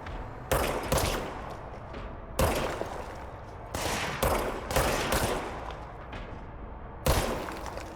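Bursts of gunfire from the video game Control, several loud volleys of rapid shots at irregular intervals across the stretch, each cracking sharply then trailing off into a lingering rumble, with no voices over them.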